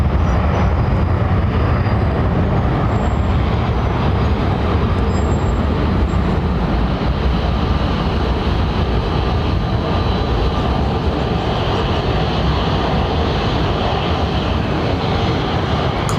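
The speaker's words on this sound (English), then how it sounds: "Jet plane." A jet plane at London Heathrow Airport, a loud continuous broadband engine roar that holds steady and close for the whole stretch, with no talking.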